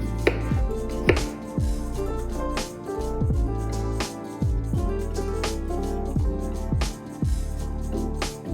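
Apples being chopped into bite-size pieces for apple pie tacos, a rapid run of crisp knife strikes on a cutting board, close and loud, with music playing underneath.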